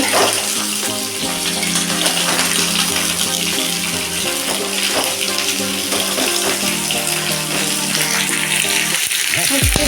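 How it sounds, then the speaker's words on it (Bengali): Mango pieces fry lightly in a pan for a sweet pickle with date-palm jaggery, giving a close, continuous hissing sizzle that stays steady throughout, with a voice faintly present underneath. "এইটাকে হালকা একটু ভেজে নিই"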